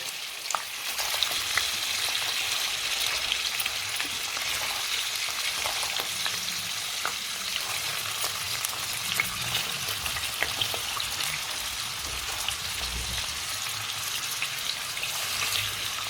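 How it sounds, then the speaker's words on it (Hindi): Jackfruit pieces shallow frying in oil in a kadai over a low flame, a dense, even sizzle with faint crackles and soft stirring, close and steady, no speech. "धीमी आंच पर ही हम कटहल को सैलो फ्राई करेंगे।"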